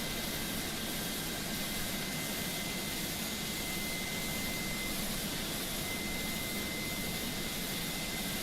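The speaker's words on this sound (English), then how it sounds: "Oh yeah, the plane sounds pretty good." Steady, dense engine drone of a Mitsubishi MU-2 turboprop in Microsoft Flight Simulator, a continuous even roar with no breaks, moderately loud and heard alone without voices.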